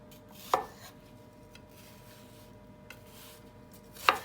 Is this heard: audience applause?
no